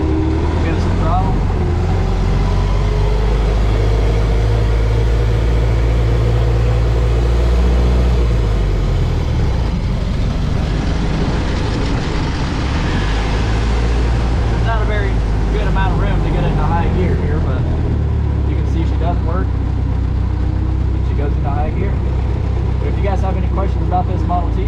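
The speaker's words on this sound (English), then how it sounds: "Give it some throttle." A 1916 Ford Model T engine rumbles loudly and continuously while driving in high gear under throttle, with wind and road noise and someone talking over it.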